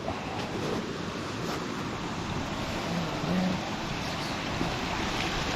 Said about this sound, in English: Definitely a constructed waterfall here.